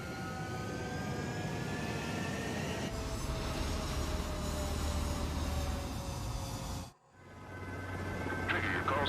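Fighter jets in the video game Ace Combat 7 roar with a steady, loud engine rumble and rising whine through the takeoff, which cuts off abruptly, then the engines return.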